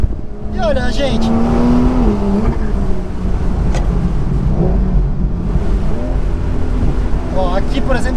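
A Porsche 911 Carrera S Cabriolet of the 992 generation drives with a steady engine drone and shifting pitch under heavy wind noise, while people talk throughout.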